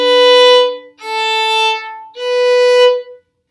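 Three sustained bowed viola notes in a row, each held about a second with brief gaps, playing the second measure of Shortnin' Bread as even quarter notes, clear and close with no talking.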